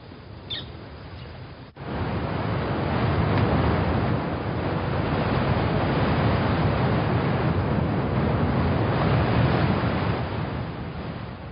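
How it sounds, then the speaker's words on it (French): Strong wind roars over an open lake, a dense, steady rushing with buffeting on the microphone after a brief quieter opening. "Le vent reprend du souffle et gomme l'horizon."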